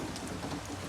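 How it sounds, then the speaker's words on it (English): Steady rain falling outside, a dense, even patter and hiss with soft low rumble beneath, continuous and close with no voices. "Still raining, as you can see."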